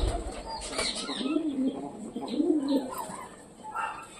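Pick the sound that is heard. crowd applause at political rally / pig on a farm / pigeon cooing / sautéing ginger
pigeon cooing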